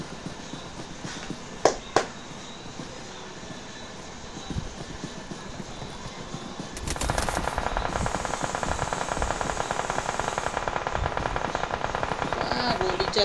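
Gunfire in the mobile battle royale game BGMI: a couple of isolated shots come first, then sustained rapid automatic fire runs continuously through the second half, loud and dense.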